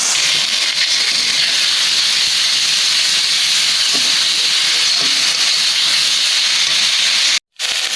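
Ground spice paste fries in hot oil for chicken tehari, a loud, steady hiss and sputter that carries on evenly, cutting off briefly near the end.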